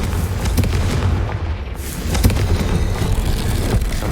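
A Confringo fire spell explodes in the Hogwarts Legacy wizarding game, a loud deep boom rolling into continuous rumbling noise over about four seconds.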